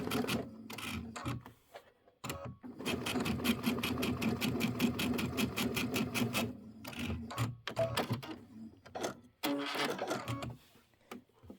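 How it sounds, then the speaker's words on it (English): A sewing machine stitching a decorative snow-themed hot pad, running in close bursts of rapid, even stitches, pausing and restarting several times, with no talk over it. "I'm just going to turn off my projector now and just sew on the line"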